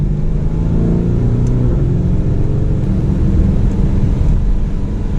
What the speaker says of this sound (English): Let's see how it does downshifting. It rev matches for us